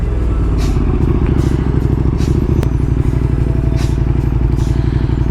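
A motorcycle engine runs steadily and close by, with a loud, continuous low throb that rises as the bike pulls away from a stop and turns, accompanied by occasional clatter, with no clear speech.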